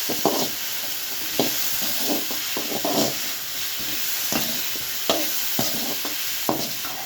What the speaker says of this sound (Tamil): தேவையான அளவு வெங்காயம், பூண்டு கொஞ்சம், தேங்காய் எல்லாம் போட்டு வணக்கணும்